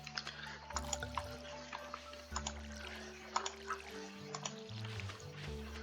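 Watering crops with a watering can in the video game Stardew Valley gives soft, splashing water effects in quick succession, heard over gentle game music.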